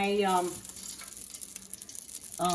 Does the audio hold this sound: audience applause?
no